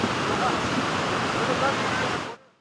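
A rain-swollen creek rushes in a flood in Düzce, Turkey. It makes a dense, continuous roar of churning water that holds steady, then cuts off abruptly near the end.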